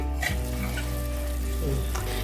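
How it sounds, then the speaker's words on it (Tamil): Ghee and oil being stirred together in a pan while making Mysore Pak, giving a steady low sizzle with a couple of soft scraping strokes throughout. "நெய் எண்ணெய் இந்த மாதிரி நல்லா கட்டி இல்லாமல் கலக்கிக்கணும்"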